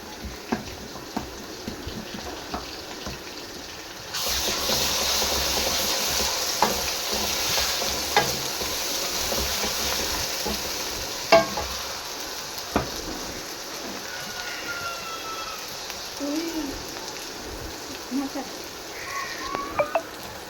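A loud, steady sizzle of garlic, ginger and green chilli paste hitting a hot pan over fried onions for chicken biryani, starting a few seconds in, with occasional stirring clinks and scrapes.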